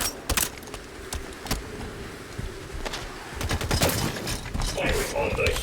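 Gunfire in the video game Halo 5: Guardians, rapid bursts of automatic weapon fire and sharp single shots crackling irregularly, fairly close and loud, with sporadic game chatter mixed in.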